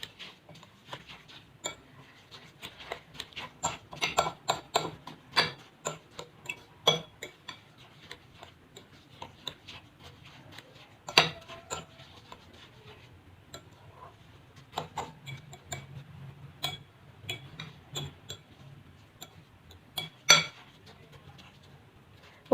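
Ajwain carom seeds being mixed with lemon juice in a bowl: rapid light clinks and ticks of a spoon against the bowl in an irregular rhythm, close and fairly soft.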